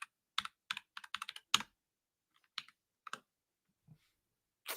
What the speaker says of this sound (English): I'm going to type into Google.